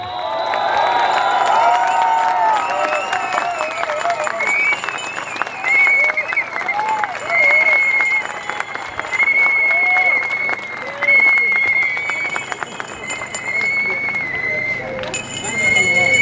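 A crowd at a large outdoor demonstration for an underground power cable applauds and cheers loudly and steadily, with whistles rising over the clapping, while someone speaks over a public address system.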